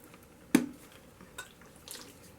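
A single distinct drip of water lands on a paint palette, followed by a couple of fainter small taps in an otherwise quiet room.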